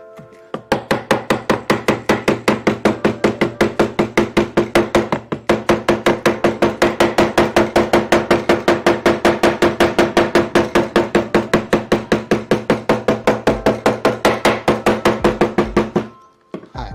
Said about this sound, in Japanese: ハンマーで叩いたり